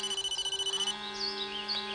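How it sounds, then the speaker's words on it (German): A phone rings in the Blair Witch VR game, a rapid warbling electronic ring that repeats in quick pulses for about a second and then changes to a smoother tone, fairly close and with no talking. "Dein Telefon klingelt."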